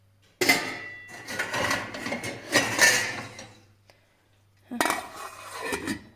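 Metallic clinks and clatters of a pot lid being handled and set on a pot, in two bursts separated by a quiet pause.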